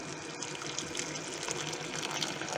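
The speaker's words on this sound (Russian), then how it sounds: "Я обычно добавляю из чайника кипяток." Boiling water from a kettle pouring into pumpkin puree, a steady soft splashing gush heard close by, continuous and fairly faint, with no talking.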